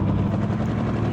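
A helicopter in a zombie video game thrums with a steady, loud rotor chop and engine drone, continuous and close, without any speech over it.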